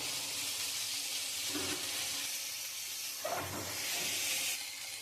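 Small fried fish dropped into a pan of cooked-down spice paste and oil, giving a steady hiss and sizzle throughout with a few soft bubbling bursts.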